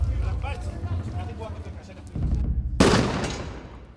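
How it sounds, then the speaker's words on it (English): A single loud, sharp gunshot of a live round fired at a frontline protest with armed soldiers in Israel and Palestine cracks out late and lingers, after a stretch of voices and crowd noise. "So that's apparently one live round being fired."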